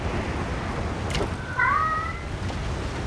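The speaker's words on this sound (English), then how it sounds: "you're distracting me with your meowing" A cat gives one short, rising meow partway through, fairly clear over a low steady background hum with a faint click just before.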